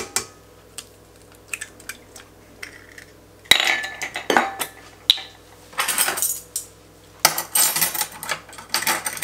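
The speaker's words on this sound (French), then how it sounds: "On remélange jusqu'à ce que ça soit bien incorporé." A utensil clinks and scrapes against a bowl while cake batter is mixed with an egg and vanilla, in irregular metallic taps that grow into busier stirring bursts.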